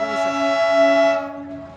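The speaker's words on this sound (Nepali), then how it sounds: "यो फर्स्ट डिजल इन्जिन हो" Horn of a Darjeeling Himalayan Railway diesel locomotive, the first of several diesels heading back to Darjeeling, sounding one steady, loud multi-tone blast that holds for over a second before cutting off.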